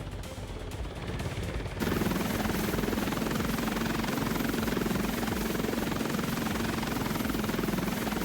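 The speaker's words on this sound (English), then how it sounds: "And then fly the helicopter around the entire map." A Roblox video game helicopter flies around a military base map, its steady rotor drone starting quiet and then jumping louder and holding constant, with no voices.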